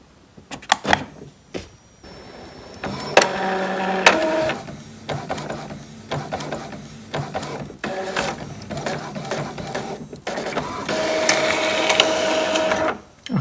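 An Epson EcoTank ET-2800 printer runs a nozzle check with clicks and starts, then whirring feed and print-head passes in several bursts, close and fairly loud, with no talking.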